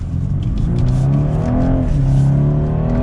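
Engine of a 2022 BMW 230i pulling hard while merging into traffic, a steady loud rumble with the revs climbing, dipping briefly, then rising again, heard from inside the car.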